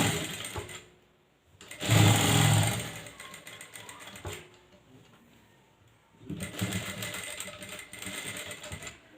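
A sewing machine top-stitches a blouse in two bursts of quick mechanical needle chatter, a short one early and a longer run near the end, with softer handling noises between, heard up close.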